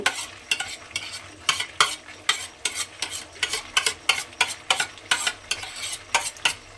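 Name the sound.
grated egg stirred into frying spice paste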